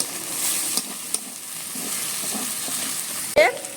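Chopped tomato tipped into a pan of browned frying onion and ginger-garlic paste, giving a steady close sizzle with a few scraping stirs and a louder splash-like burst near the end.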